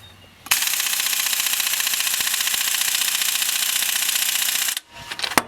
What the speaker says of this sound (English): Go ahead and take your impact gun here.